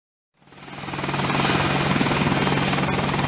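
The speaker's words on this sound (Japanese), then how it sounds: "ヘリコプター" A helicopter in an anime battle scene swells in within half a second, then holds a loud, steady rotor chop with a rhythmic thump and engine whine. No one speaks.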